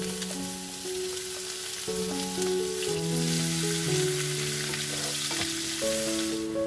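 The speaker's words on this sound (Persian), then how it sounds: "حالا از تابه در میاریم و پیازامون رو توی همون تابه تفت میدیم" Onions sautéing in the same frying pan just used for eggplant, a strong, steady sizzle with soft stirring sounds under continuous background music, no voices.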